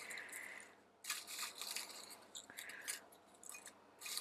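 A deck of cards is shuffled by hand during a pick-a-card reading: quick crisp riffling bursts in several short bouts, close to the listener, with quieter handling between them.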